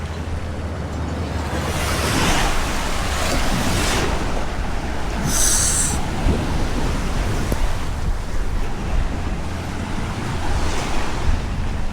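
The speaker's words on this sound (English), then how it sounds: "The waves aren't huge, but pretty nice." Ocean waves breaking on a rocky beach at Huanchaco, Peru, a steady loud wash of surf with continuous rumbling swells and wind noise across the microphone, no voices.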